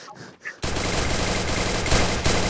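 A long-range charge gun fires in the video game Free Fire, a sudden loud, sustained burst of rapid fire after a brief quiet moment with faint voices, continuing to the end.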